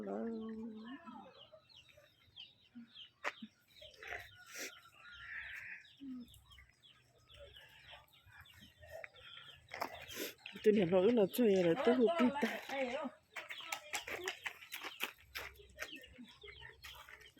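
Chickens cluck and roosters crow in a rural yard, the calls loudest in a burst near the middle and scattered elsewhere, with people talking over much of it.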